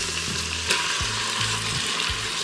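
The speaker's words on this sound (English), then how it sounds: "my oil is getting pretty hot, so I'm going to go ahead and put in some of these pork bites" Pork bites dropped into hot oil crackle and sizzle loudly and continuously, a dense close frying hiss with a small pop partway through.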